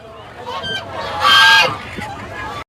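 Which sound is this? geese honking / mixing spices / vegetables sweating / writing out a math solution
geese honking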